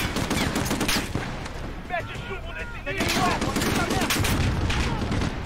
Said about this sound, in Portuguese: Caraca, tiroteio sinistro aqui.